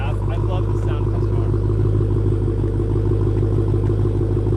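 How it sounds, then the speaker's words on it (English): A deep, rumbling Dodge Challenger SRT Demon engine idles steadily with a throaty low burble, loud and close, while faint voices talk underneath. "I love the sound of this"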